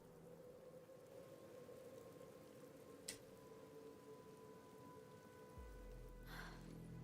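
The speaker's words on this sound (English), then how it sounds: "Nice rain effects." Video game rain from Arknights: Endfield, steady rainfall with a constant hiss and patter of drops, a couple of sharp clicks, and a low hum joining near the end.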